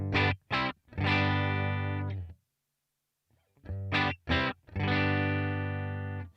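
Electric guitar through a Headrush MX5 amp model with a Royer 121 ribbon mic simulation: short chopped chords followed by sustained distorted ones in two phrases split by a brief pause, close and solo.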